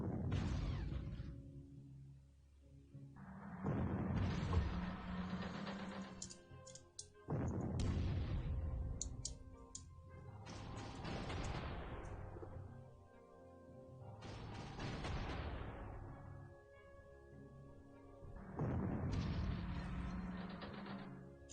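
Artillery fire in the wartime strategy game Panzer Corps: a series of six or seven heavy, booming blasts with rumbling tails, spaced every few seconds and loud, with no talking.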